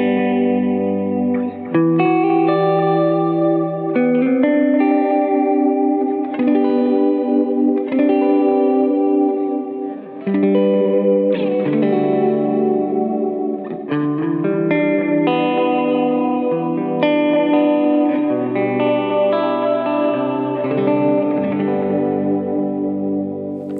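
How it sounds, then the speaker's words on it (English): Electric guitar notes run through a lo-fi delay pedal set to high wear and high mechanics, giving a wobbly, chorused, slightly distorted tone with echoing repeats; a steady, continuous phrase of overlapping notes with no talking. "you can also dial in that more like lo-fi sounding, like high wear and high mechanics settings"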